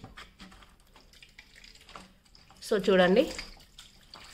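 Water gushes out through the opened drain filter of an IFB 8 kg front-load washing machine in a brief, louder splashing burst near the end, with a person talking quietly before and during it.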